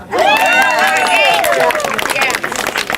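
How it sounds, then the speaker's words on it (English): Audience clapping and cheering at a birthday play, a busy burst of applause with excited voices and shouts riding over it, lively and close. "let's have an applause to the spectacular, energetic Melissa"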